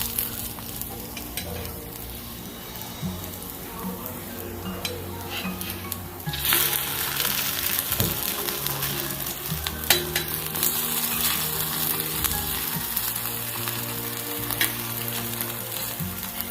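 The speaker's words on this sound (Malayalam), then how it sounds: "ലോ ഫ്ലെയിമിൽ ഇട്ട് തന്നെ കുക്ക് ചെയ്യുക" Ragi pancakes made with sugar syrup fry in a pan on a low flame, giving a steady close sizzle with occasional scraping and stirring clatter from a utensil.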